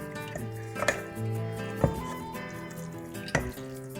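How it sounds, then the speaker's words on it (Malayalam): Chicken liver being stirred with oil and salt in a pan for a Kerala-style liver fry: three distinct metal spoon clanks and scrapes against the pan over a steady low tonal hum, with no speech. "ഇതൊന്നുകൂടെ ഒന്ന് നല്ലപോലെ ഇളക്കാം"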